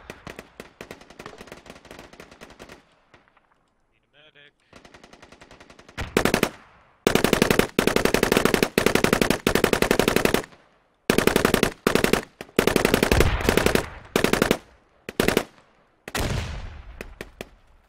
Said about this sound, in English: That's Mizu shooting at Tibbsy here.